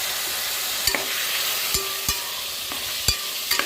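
Mutton liver gravy stirred in a pan: a steady close hiss of simmering and frying, with several sharp knocks of the spoon against the pan at irregular intervals, and no voices.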